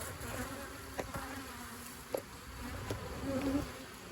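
Honey bees buzz steadily around hive frames, a close, continuous drone with a few sharper passes as individual bees fly near, no talking.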